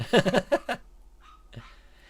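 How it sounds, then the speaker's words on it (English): A neighbour's dog barks several times in quick succession near the start, loud and fairly close, followed by quieter room sounds and a faint later yelp. "My neighbour's dog's barking."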